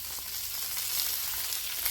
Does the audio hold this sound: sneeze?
no